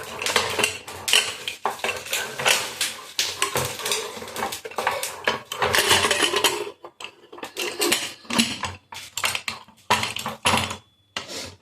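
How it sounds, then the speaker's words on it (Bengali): A steel pressure cooker lid is fitted and locked into place, a run of close metallic clatters, scrapes and clanks with brief pauses, like pots and utensils knocking together. "প্রেশার কুকারে মুখটা লাগিয়ে"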